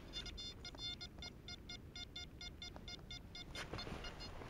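An XP Deus metal detector gives a faint, repeating high-pitched beeping tone for a 63 reading. The short beeps come in a steady rhythm over outdoor wind and background noise, with no talk.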